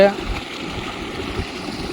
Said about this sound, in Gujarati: કેનાલ અધૂરી છે આ પાણી અહીંયા કેનાલ તોડેલી છે